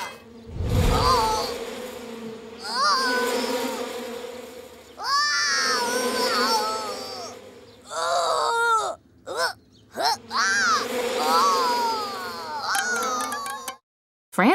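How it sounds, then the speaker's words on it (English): A cartoon swarm of angry bees pours out of an upset beehive, buzzing and whining in loud rising and falling bursts, broken by a few short pauses, over about fourteen seconds. "Francis upset the beehive and was chased by 47 angry bees."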